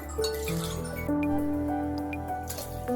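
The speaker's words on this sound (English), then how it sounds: "So I am adding in 1 more glass of water." Water pours from a large glass into a pot of chicken sweet corn soup made with homemade bone stock, with trickling and dripping, a few light clinks against the pot, and a steady low kitchen hum beneath.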